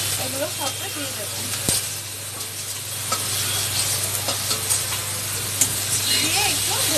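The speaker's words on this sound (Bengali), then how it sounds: "পেঁয়াজটা একটু ভাজা ভাজা হয়ে আসলে এবার আমি রসুন থেতো করে রাখা এগুলো সবটা দিয়ে দেব" Onion and crushed garlic fry in a little oil for a boal fish curry, a continuous close sizzle with stirring scrapes and clinks over a low hum, with a voice speaking intermittently.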